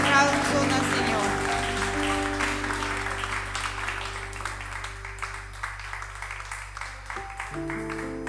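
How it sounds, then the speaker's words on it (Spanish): During a church service, a congregation applauds the Lord with a burst of clapping over sustained music. The claps begin dense and strong, then thin into looser, rhythmic hand claps as the music continues. "Bríndale un fuerte aplauso al Señor."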